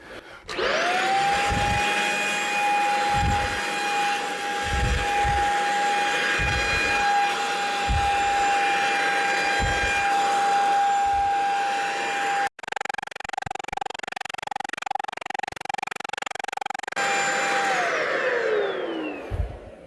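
Vacuum cleaner running steadily over a hooked yarn rug, a loud continuous motor whine with rhythmic thumps as it is pushed and pulled, a brief cutout midway and the motor winding down at the end.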